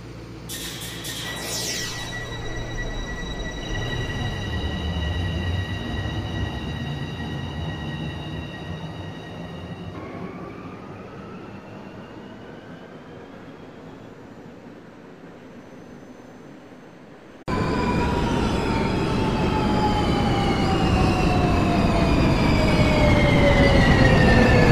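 A video game's New York subway train, an F local at Bergen Street, hums and rumbles steadily, with tonal motor whines rising and falling and a sudden jump in loudness near the end; no voices.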